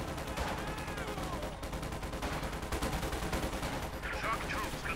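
Rifle grenade blasts and rapid gunfire from a Company of Heroes 2 real-time strategy battle rattle on continuously, loud and dense, with layered shots and explosions under a steady wash of game audio.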